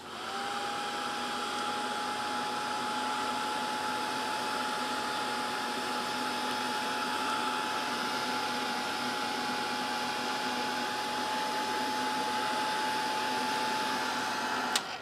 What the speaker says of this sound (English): I'm going to hit them with the heat gun just to see what happens real quick